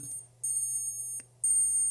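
A Seiko digital watch countdown timer alarm sounds close by in two bursts of rapid high-pitched beeping separated by a brief pause, over a faint low hum.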